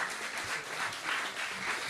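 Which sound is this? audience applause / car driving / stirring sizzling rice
audience applause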